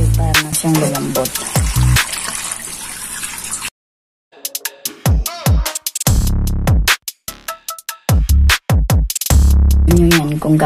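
Water is poured from a tap into a cooking pot holding pork trotters and mung beans, making loud gushing and splashing in several bursts with a short silent pause in the middle.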